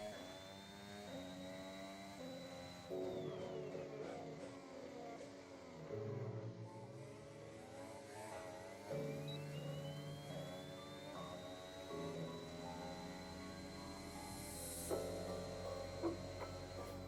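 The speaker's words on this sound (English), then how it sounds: "Downshifted one too many gears." Car engine in a racing video game drops through the gears, revs rising and falling in sharp steps with harmonic whine sweeping up and down, steady and close throughout.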